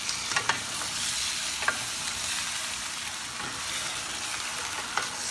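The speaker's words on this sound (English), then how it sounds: "Cook now and mix with the ingredients." Pork kare kare ingredients sizzle and fry in a pot, with a steady hiss and a few sparse scraping clicks from stirring, heard alone without speech.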